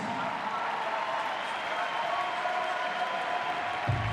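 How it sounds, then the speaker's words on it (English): An audience applauds competitors at a regional men's sports event, a moderate, steady round of clapping heard from a distance in a large, reverberant space. "one more big round of applause for them"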